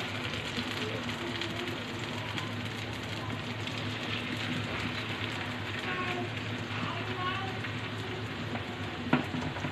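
Prawn fritters frying in hot oil give a steady, close crackling sizzle that runs without a break, ending in one sharp clack near the end.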